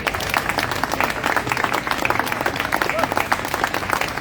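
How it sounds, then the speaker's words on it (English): Crowd at an outdoor Free Palestine rally applauding, a dense, sustained burst of many hands clapping at close to moderate distance, steady throughout without a pause. "Big round of applause for Mariki, everyone."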